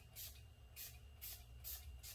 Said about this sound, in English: Spray the activator accelerator